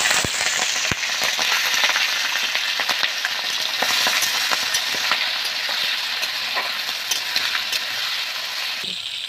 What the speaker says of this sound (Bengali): তাই চিংড়িটাকে ভেজে নিচ্ছি।